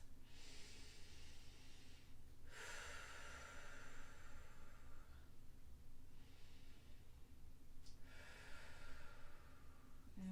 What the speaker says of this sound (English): Take nice deep breaths here. A couple more big belly breaths.